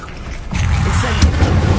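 A spell burst in the Hogwarts Legacy video game, a loud rumbling boom and whooshing swell that kicks in midway and sustains to the end with a sharp accent near the close, no talk over it.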